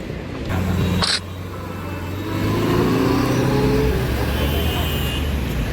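A Ford Mustang drives past on the road, its engine rising into a loud, rumbling pass that swells midway and holds, with other traffic around and a voice talking over it.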